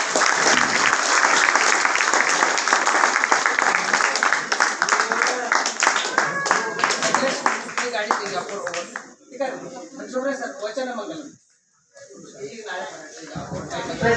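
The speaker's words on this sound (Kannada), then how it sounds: "ಎಲ್ಲರೂ ಒಂದ್ಸತಿ ಜೋರ ಚಪ್ಪಾಳೆ ತಟ್ಟಿ." An audience at a Shravan-month religious discourse gives loud, sustained applause that gradually thins out and ends with a brief pause.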